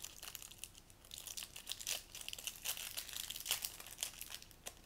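Wrapping paper on a small advent calendar gift being torn and crumpled open, quick irregular crinkles and rips, close and fairly quiet with no talk.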